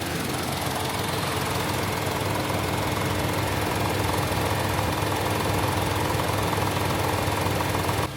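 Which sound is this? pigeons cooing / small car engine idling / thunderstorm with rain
small car engine idling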